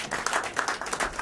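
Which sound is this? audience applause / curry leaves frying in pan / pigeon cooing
audience applause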